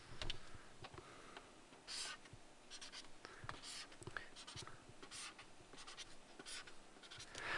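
Numbers are being handwritten as decimal values while working a graphing problem. Soft, close scratchy pen strokes come in short, irregular bursts against a very quiet background.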